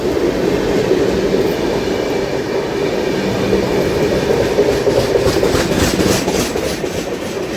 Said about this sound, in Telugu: విశాఖపట్నం సికింద్రాబాద్ గరీబ్ రథ్